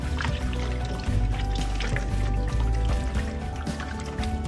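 Oxtails being rubbed and washed with vinegar and lemon juice, a continuous loud wet sloshing and squelching of liquid and meat in a bowl, close and steady, with no talk.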